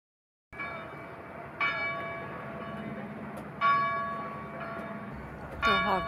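Church bells ring near Portimão harbour on the Algarve coast, four distinct resonant strikes a second or two apart, each leaving a long sustained hum, moderately loud over faint background noise.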